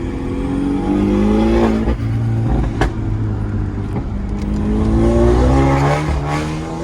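A Stage 3+ tuned Mini Cooper making 400 hp accelerates hard through the gears, its engine note rising in loud sweeping pulls with resonant exhaust drone and brief shift breaks, heard close from inside the car.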